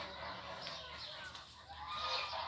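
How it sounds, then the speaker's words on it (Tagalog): Chickens cluck and call on a farm in Wafra, Kuwait, several birds overlapping in a busy, moderately close chorus against faint background noise. "Mga manok."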